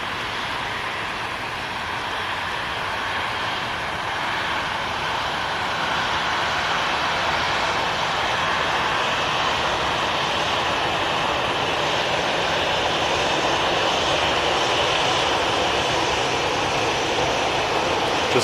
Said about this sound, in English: we can catch the evening Emirates A380 that usually touches down